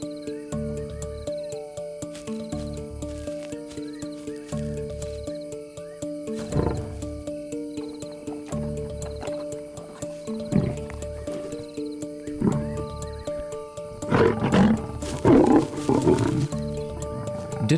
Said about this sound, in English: Dinner time in a lion family can be a noisy affair.